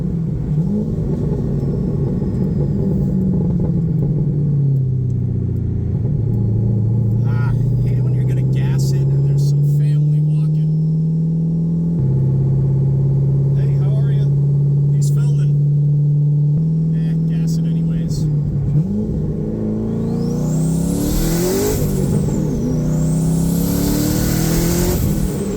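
A 1200 hp twin-turbo Corvette Z06 with a custom-built exhaust rumbling loudly on the move, engine pitch rising and settling through gear changes, with a brief whine near the end and voices talking over it.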